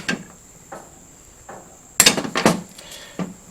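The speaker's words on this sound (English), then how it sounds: "So we're going to take some wire snips here. We're going to cut these wires," Wire snips cut through the wires of a burnt RV electrical plug, giving a few faint metallic clicks and then a louder cluster of snaps and clinks near the end, close by and without talk.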